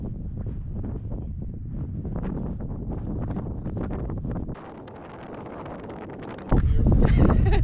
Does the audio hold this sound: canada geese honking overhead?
no